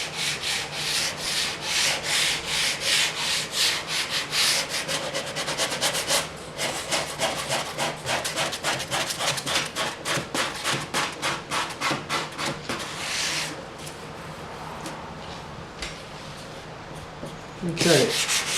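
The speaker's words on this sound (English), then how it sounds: "when I'm sanding this way, I'm just keeping it on a little bit of an angle" Steady rhythmic scratching of sandpaper rubbed back and forth by hand with the grain over wood veneer on a vintage hi-fi, fast even strokes that slow and fade near the end.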